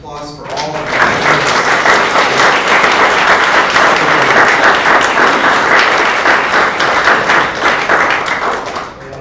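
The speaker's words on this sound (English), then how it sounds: "Can we have one more round of applause for all of them?" Sustained, dense applause from a seated symposium audience fills the room for about nine seconds, loud and steady, with a faint voice under the clapping.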